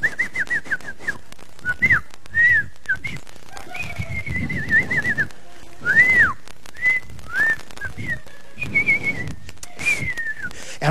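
A man whistles an imitation of a songbird, sending out rising and falling chirps and trills in short phrases separated by pauses, with audience laughter and noise between the calls.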